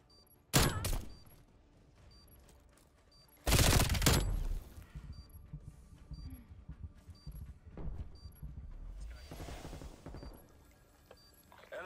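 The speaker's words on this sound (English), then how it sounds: "Why is that guy shooting his body?" Gunshots in a Search & Destroy match as a player fires into a dead body: two sharp loud bursts, then softer scattered shots and thuds at a distance, with quiet game ambience between.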